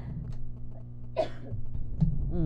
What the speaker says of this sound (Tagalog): pasensya na sa ubo nga may bisita na to